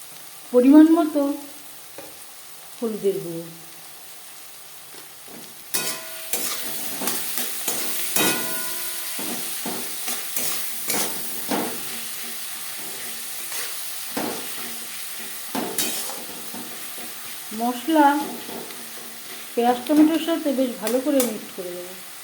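Onion and tomato frying in a pan with ginger paste and green chili paste added for a silver carp and potato curry, intermittent sizzling and stirring scrapes, close and moderately loud, alternating with quieter pauses.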